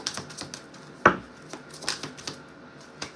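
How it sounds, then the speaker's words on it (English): A deck of tarot cards is shuffled by hand during a reading, giving a quick series of soft papery taps and riffles close by, with one sharper slap partway through. "Last shuffle."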